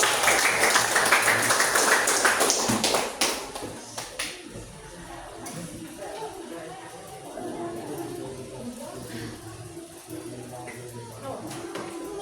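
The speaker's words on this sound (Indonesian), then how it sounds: "Oke, berikan tepuk tangannya dulu." A group claps for the third team called forward during an academic coaching and supervision session, the applause loud at first and fading after about three seconds into murmuring chatter and a few scattered claps.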